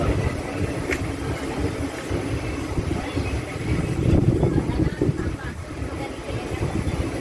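Koyna Express train pulling out of Lonavla railway station, a steady low rumble of rolling wheels and carriage noise heard from onboard, with faint voices underneath.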